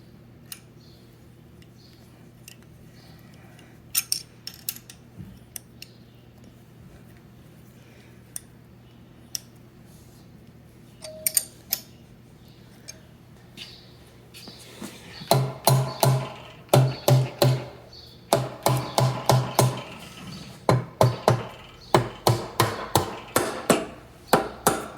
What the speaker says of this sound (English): So we can put our studs in now.